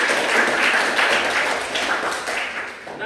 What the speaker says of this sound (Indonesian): Ya, tepuk tangan buat Dwi.